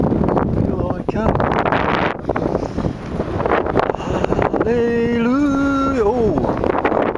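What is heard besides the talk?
strong breeze blowing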